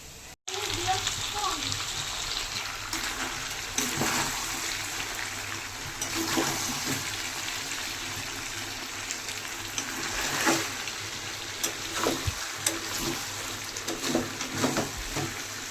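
Water runs and splashes steadily while a young boy is bathed, a continuous hissing trickle with scattered splashes over a long stretch, and voices talk quietly underneath.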